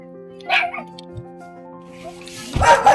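A dog barks a couple of times, separated by a pause, over a steady tonal hum in the background.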